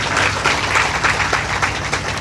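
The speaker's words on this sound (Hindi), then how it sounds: "तालियों से स्वागत है।" An audience claps steadily for a couple of seconds, a dense patter of many hands throughout.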